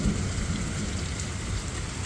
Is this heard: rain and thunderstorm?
yes